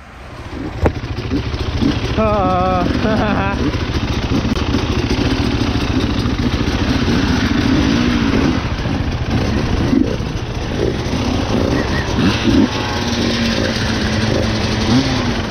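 Four-stroke KTM and Husqvarna motocross bikes idle and rev nearby, a steady loud engine drone with rising throttle blips, while people talk over it.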